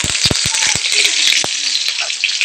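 Curry leaves hit hot coconut oil and fry with a loud, steady sizzle, broken by sharp crackles and spits early on, close up and without talk.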